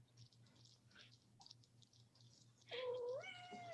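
A house cat lets out one clear, fairly close meow near the end, after a few seconds of quiet room hum with faint soft sounds.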